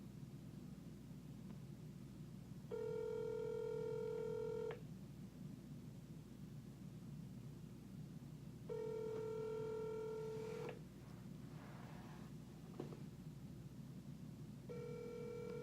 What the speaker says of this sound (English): And now we are attempting to recall caller number 1.